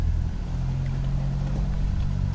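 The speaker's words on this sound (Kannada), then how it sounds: "ಇದು ಯಾವುದೋ ಬೋಟ್ ಸ್ಟಾರ್ಟ್ ಆಯಿತು" A houseboat engine on the Alleppey backwaters runs with a steady low, throbbing drone, close and continuous throughout.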